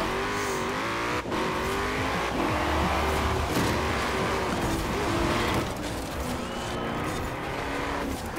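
A Caterham CCGT race car in Forza Horizon 4 drives hard, its engine note steady and loud throughout with rising revs and a brief tire squeal.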